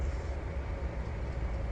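A coal drag of twenty loaded hoppers in Trainz 2019 rumbles low and steady as it comes to a halt, a continuous deep rolling drone with no voices.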